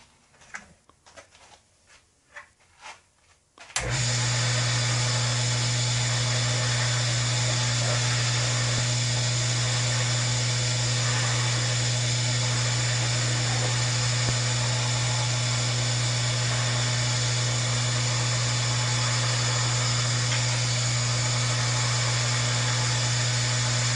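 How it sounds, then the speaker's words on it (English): A wood lathe spins a wooden pen blank being polished with wax and a pressed cloth. Quiet clatter gives way to the motor starting abruptly, then a loud, steady hum with a constant whine that runs on evenly. "while it's turning, rub the wax on it and then apply firm pressure with the cloth and it will melt it into the wood"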